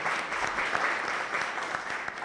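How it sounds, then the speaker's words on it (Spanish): Audience applause after a presentation at an Open Finance workshop, a steady dense patter of many hands clapping for a couple of seconds, moderately distant and even, with no talk over it. "Le damos un aplauso de nuevo a Raúl."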